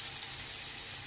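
Chicken frying with onions in a pan, a dense, steady sizzle with bright hiss, loud and close, holding evenly for about a second.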